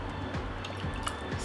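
Hot cooked tomato sauce poured into hot sterilized jars, making soft, faint wet drips and squishy gloops in a brief run.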